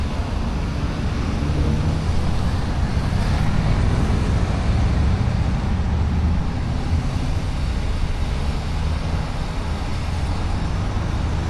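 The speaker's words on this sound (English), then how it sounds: "There's way more traffic over here, a lot more smoke and exhaust and noise, motorcycle noise, hustle and bustle." Dense city street traffic in Mexico City, a steady, loud roar of engines and road noise with motorcycles in the mix, continuous and close for the whole stretch.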